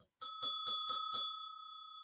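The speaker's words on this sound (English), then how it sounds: "you'll hear the bell." A small desk bell rings five quick times in a steady rhythm, each strike clear and close, then a single sustained tone hangs and slowly fades in an otherwise quiet room.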